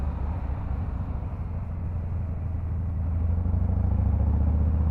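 A Harley-Davidson Fat Boy 114 with a non-stock exhaust rumbles steadily, its deep, loud V-twin throb swelling slightly toward the end, close and alone with no talking.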